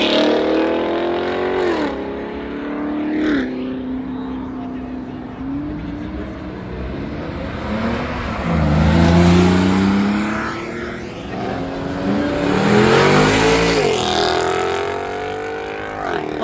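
V8 sports cars at a supercar meeting pass in turn, engines rising through gear changes with loud nearby revving peaks that fade between cars, while people talk over them.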